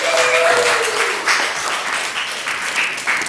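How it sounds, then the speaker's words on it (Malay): Classroom applause from students during a lesson, a steady burst of clapping lasting a few seconds at close range, with no talk over it. "Berikan tepukan untuk Is."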